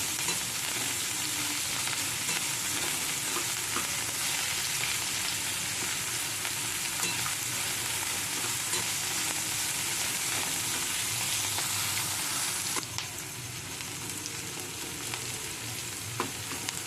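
Vegetables for a mixed vegetable sandwich sizzling steadily in a pan while being stirred, a continuous close frying hiss with soft scraping, no talk.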